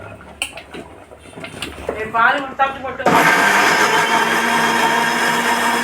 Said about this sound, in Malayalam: നാളികേരം കൂടി മിക്സിയിൽ ഒതുക്കാം